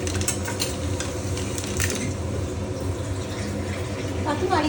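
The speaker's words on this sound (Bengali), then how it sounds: "এবার আমি এর মধ্যে দিয়ে দিচ্ছি জল" Water poured into a pan of frying tomato masala for a tilapia fish curry, giving a steady hissing sizzle with stirring and pan clatter throughout, loud and close.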